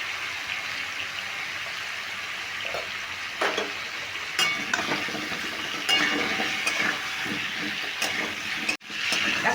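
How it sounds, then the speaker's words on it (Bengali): Pumpkin pieces fry uncovered in oil with salt and turmeric, a steady close sizzle with occasional scraping stirs and a brief dip near the end. "কুমড়োটা ভাজা হয়ে গেছে তিন মিনিট ধরে আমি ভেজে নিলাম"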